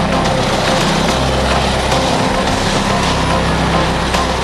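A helicopter flying at a Tokyo skyscraper construction site: a loud, steady rotor and engine roar with a faint regular thudding pulse, continuous and close throughout.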